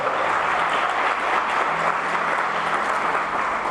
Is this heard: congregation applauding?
yes